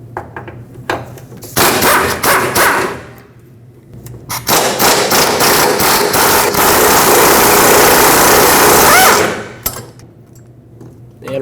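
Loud bursts of a power impact tool loosen 17 mm fuel tank strap bolts on a Nissan Frontier, two long rattling runs separated by a pause, with faint clicks between them.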